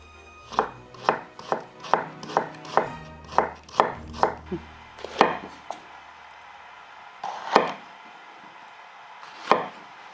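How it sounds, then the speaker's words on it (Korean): A knife thinly julienning hard carrots on a cutting board for smoked duck rice-paper rolls, with crisp, close chopping strokes in a quick rhythm, about a dozen, then a pause and a few slower separate chops. "당근은 좀 단단하잖아요. 네. 그래서 좀 얇게 채를 썰어주면 좋아요"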